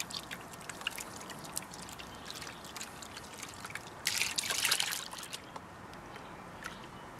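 Gold ore being panned in water in a pan, with steady soft trickling and sloshing throughout and a louder burst of splashing water midway, close by with no talk.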